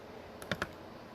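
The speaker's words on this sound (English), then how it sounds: "what I was typing in the chat" A few quick keystrokes on a computer keyboard, faint and close, two or three distinct clicks in a short burst over a quiet room.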